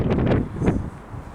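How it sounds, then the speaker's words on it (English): Gusty outdoor wind buffets the microphone aboard the battleship USS Alabama, a loud low rumble in bursts that eases off after the first second. "It's also windy."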